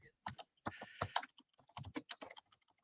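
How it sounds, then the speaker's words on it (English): Someone typing on a computer keyboard, with quiet, irregular bursts of clicks and short pauses between them. "I'm just typing something here"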